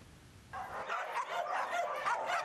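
Several dogs at an outdoor animal shelter on a city street bark and yip in quick overlapping bursts, fairly close, after a brief quiet start.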